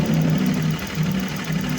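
A Honda Click V3 scooter engine idling smoothly and quietly after a repair to its tensioner, giving a steady, close, low hum with a gentle regular pulse and no knocking.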